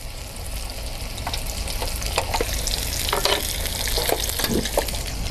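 Breaded schnitzel fries in hot oil in a pan, with a dense, steady sizzle and crackle close up and scattered sharper pops throughout, with no talking.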